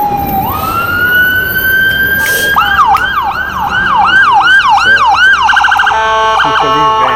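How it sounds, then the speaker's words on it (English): A loud, close ambulance siren rises into a rapid repeating yelp, then shifts to a faster warbling pattern, with traffic rumble underneath. "it wasn't the two police vehicle, it was an ambulance"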